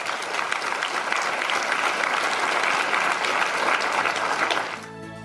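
Podcast audience applause, a dense, loud wash of clapping that holds steady for several seconds before cutting off abruptly.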